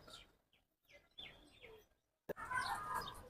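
Pigeons kept on a rooftop with a vegetable garden call in scattered soft bursts that drop away into a pause, then return as a denser, busier stretch of cooing and fluttering.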